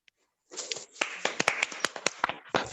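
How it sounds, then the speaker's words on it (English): Students in an online Zoom English class clap after the lesson, a burst of separate sharp claps, fairly close and uneven in rhythm, with a faint stray tap before it. "If you think we had a very good class today, show me your hands by clapping."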